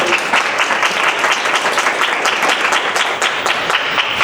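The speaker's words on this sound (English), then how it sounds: "it's so nice when people clap before I've even had anything to say" An audience applauding at a talk, a dense, even burst of clapping from many hands, close and loud, with no speech over it.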